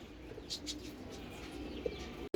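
Pigeons settle into their cages at a house with soft, faint cooing and a few light chirps against a quiet background, ending in a sharp brief click.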